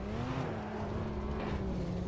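A car engine revs steadily in a drifting video game, a sustained droning whine that holds a fairly even pitch and stays moderately loud and close throughout, with no talking.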